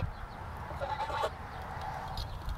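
A green-beaked, yellow-footed pet duck about 13 weeks old calls from the background, with a short burst of quacking or clucking partway through, over steady low outdoor noise.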